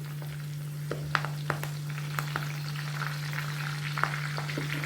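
Leaves frying gently in hair oil over low heat, a soft steady sizzle with scattered small pops and crackles, alone without talk.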